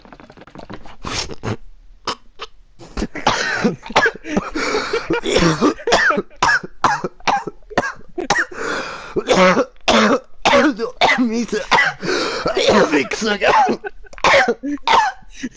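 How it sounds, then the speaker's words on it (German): A man coughs hard in several harsh bursts and clears his throat, interleaved with loud, close, agitated Swiss German talk during an online GTA 5 session on PS4. "Huste, Bastard, huste."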